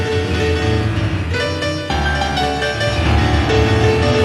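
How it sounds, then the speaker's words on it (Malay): Piano-like MIDI playback tone, a dense sustained chord texture with stacked harmonics, loud and continuous throughout with a brief dip midway. "saya dengar ada bunyi piano"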